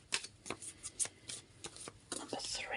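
Tarot cards being shuffled by hand, a quick series of crisp riffling bursts up close, a faint whisper-like breath running beneath.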